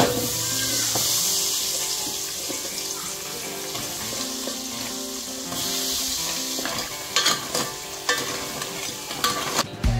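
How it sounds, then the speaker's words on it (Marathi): Crabs fry in a pan with a steady, close sizzle, stirred now and then with a few clinks and scrapes toward the end, no talking. "आता आपण खेकडे फ्राय करून घेऊ"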